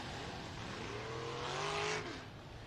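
Race cars on the RPM Speedway dirt track in Hays, Kansas spin out together, a steady engine roar with rising and falling pitch that swells to a louder peak near the end, no talk.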